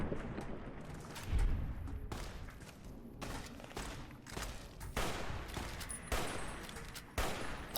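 Gunfire in Fallout: New Vegas, a series of sharp, loud shots with booming thumps spaced irregularly across the stretch, near and punchy.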